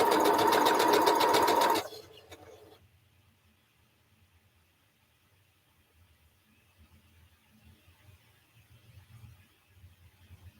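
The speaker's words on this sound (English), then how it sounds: "finish sewing this one first" A sewing machine stitching fabric runs in a fast, loud rapid whir for about two seconds, then stops abruptly, leaving quiet room noise with faint low rumbling afterward.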